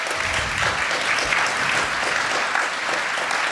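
A crowd applauds steadily throughout, a dense wash of clapping from many hands with no pauses.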